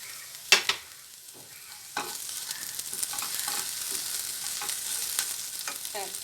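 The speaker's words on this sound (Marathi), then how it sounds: "आता मी यात टोमॅटो घालून परतून घेणार आहे." Onion and tomato sauté in a pan over medium heat for masala dosa potato stuffing, a few sharp clanks at the start, then a steady soft sizzle with light stirring scrapes throughout.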